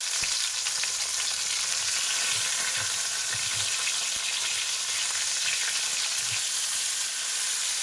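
Fish frying in hot oil, a continuous close hiss of sizzling with faint low bubbling and no voices.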